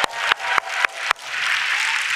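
Audience applause at a Korean church New Year blessing gathering: a few loud separate claps at first, then a dense, steady burst of clapping from the congregation.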